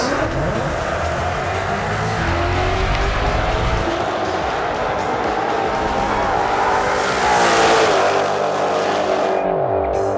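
A Mustang revs and accelerates hard down a drag strip at a car show, a loud continuous engine roar with rising pitch and a harsh tire or exhaust surge near the end.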